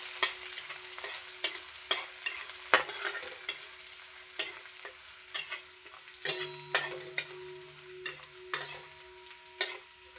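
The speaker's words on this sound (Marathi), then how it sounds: "आता आहे ना आपलं तेल तापलंय, तर त्यामध्ये आपण आहे ना हे आलं लसूण मिरची आहे ना ती टाकूया." Ginger, garlic and chili are stirred in hot oil for chicken fried rice, a soft sizzle running under repeated sharp scrapes and taps of a spatula against the pan at a steady, uneven rhythm.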